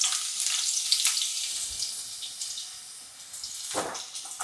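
Onions dropped into hot sunflower oil in a pan sizzle and crackle with a bright, steady hiss, with a sharper spattering burst near the end.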